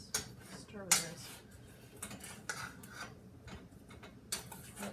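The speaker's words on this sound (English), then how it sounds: "And then I'm gonna stir with this." Beef and flour being stirred in a pot: soft irregular clinks and scrapes of a utensil against the pot, with a few sharper knocks, fairly quiet and close.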